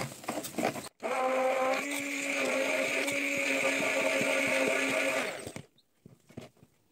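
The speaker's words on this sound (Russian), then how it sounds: "И все перемешивается опять-таки блендером." An electric blender mixes cake batter as flour is added, giving a loud, steady motor whir for about four seconds that starts abruptly and winds down, with brief handling clatter before and after.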